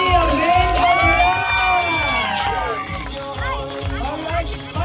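Wedding guests cheer and whoop in a lively crowd, with loud sustained shouts and voices over a steady rhythmic thump of music underneath; talk mixes into the noise.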